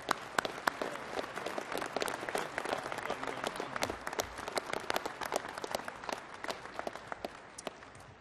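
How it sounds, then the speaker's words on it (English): Sustained applause from a large convention crowd at a Southern Baptist Convention executive committee session, dense and continuous clapping that holds steady for several seconds before easing slightly, with no talking over it. "Let's give them another round of applause."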